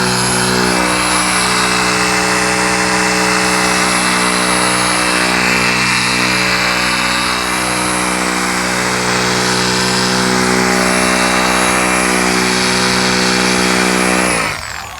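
A car polisher spinning and oscillating as it lifts paint transfer from a car's finish, a loud, steady close-up motor whine with layered harmonic tones that holds throughout and cuts off sharply at the end.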